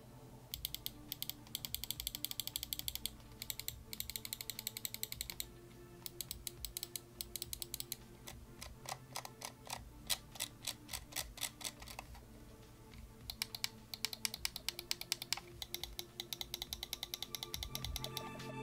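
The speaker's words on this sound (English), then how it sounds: "Moving on to the buttons, here is a listen to the clicks." Button clicks on a Zowie FK2 gaming mouse, crisp sharp clicks in rapid runs and spaced single presses, close-up and alone with no talking over them.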